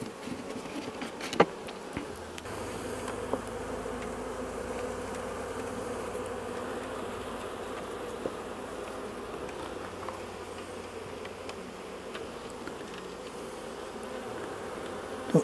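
Honeybees buzz steadily at an apiary hive while frames are handled, a continuous close drone of many insects with a few sharp knocks and clicks.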